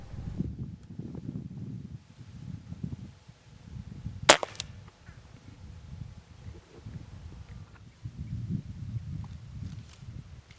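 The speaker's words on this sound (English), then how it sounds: "I spotted another jack and took a knee for the shot, setting up on my polecat shooting sticks" A single sharp airgun shot from an Avenger Bullpup fired at a jackrabbit while hunting in brushy country, one crisp crack midway through, with rustling and footsteps in the brush before and after.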